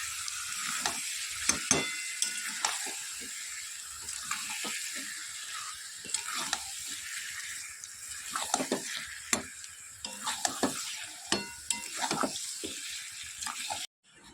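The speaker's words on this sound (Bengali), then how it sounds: "এই যে এবার মাংসটা দিয়ে দিলাম। আজকে আলু দেবো না, আজকে আলু ছাড়া মাংস রান্না করবো, কষা কষা" Meat sizzling and frying in a pan while being stirred, cooked dry without potatoes, with repeated scraping clicks and a steady hiss throughout, close up and loud.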